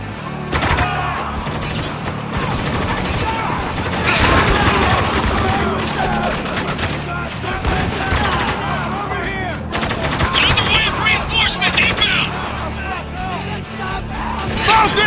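Gunfire in Spec Ops: The Line: dense, continuous bursts of rifle and machine-gun fire throughout a chaotic firefight, with soldiers shouting over the shooting.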